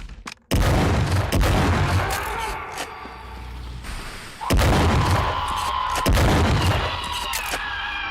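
A video game shotgun fires in heavy, booming blasts, three or four widely spaced shots with sharp attacks and decaying tails, loud and close amid game effects.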